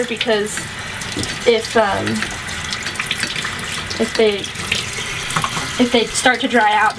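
Tap water runs into a sink while worms from quail are rinsed under it, a continuous splashing stream beneath a person talking close by.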